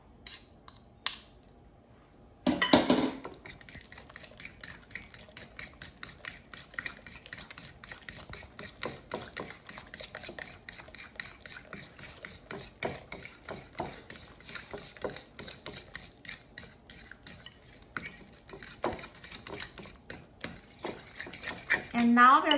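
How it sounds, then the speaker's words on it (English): A spoon clatters and scrapes steadily in a bowl while pumpkin dump cake batter is mixed with eggs, a fast, continuous rhythmic clinking close by. "And mix it together with eggs."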